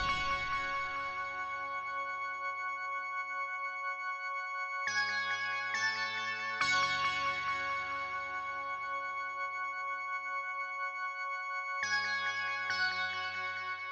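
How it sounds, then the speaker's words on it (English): Synth lead melody in an FL Studio beat, made of bright bell-like sustained tones with a few changing notes stepping in over a steady held layer, played alone at moderate volume. "I've added a synth lead that sounds like this."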